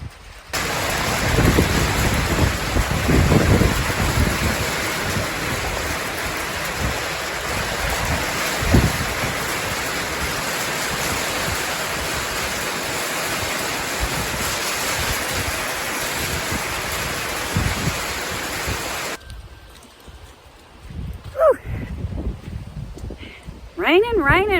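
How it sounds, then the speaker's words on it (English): Heavy, chilly rain driven by a strong north wind pours down steadily in a garden, a loud continuous hiss with gusty surges, then cuts off near the end, leaving quieter scattered sounds and a little talk. "So this is the kind of rain we want"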